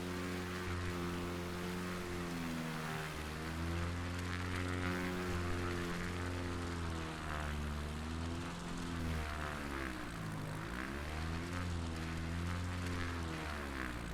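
An American Champion Super Decathlon's propeller engine drones steadily and loudly in a flight simulator, holding a constant harmonic hum with gentle pitch wavering as the aircraft climbs, no voices present.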